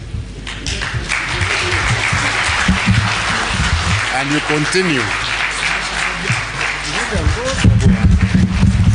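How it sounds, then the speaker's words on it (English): Crowd at a political rally in Meru awaiting Prime Minister Raila Odinga claps and applauds steadily throughout, a loud dense wash of many hands with voices shouting and talking over it. "and start clapping"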